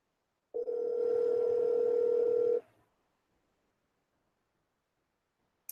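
A phone line rings out during an outgoing call, a single steady electronic ringback tone lasting about two seconds before cutting off into silence, clear and alone.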